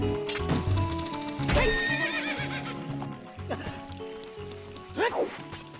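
Epona the horse in Zelda: Ocarina of Time gives two loud whinnies, the first early and the second near the end, with clip-clopping hooves and game music beneath.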